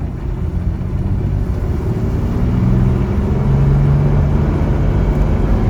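A Jaguar Mark 2 with automatic transmission runs at a steady engine drone in low gear, rising slightly in pitch as it strains against a misfire above 2,500 RPM, loud and close with no voices.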